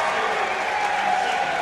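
A basketball crowd at a Hope versus Albion men's game applauds departing senior Ryan Lowe, a steady wash of clapping and cheering echoing through the gym.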